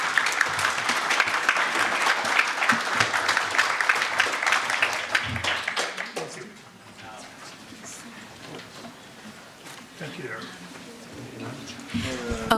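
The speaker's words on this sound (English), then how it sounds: "Another round of applause." Conference audience in a ballroom applauds loudly for about six seconds, then the clapping thins out as a speaker's voice takes over.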